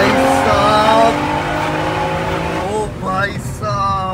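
A Stage 2 tuned BMW M340i launching with five people aboard: a loud, sustained engine drone with steady harmonics, then tire squeal and sweeping pitch near the end, with voices talking over it.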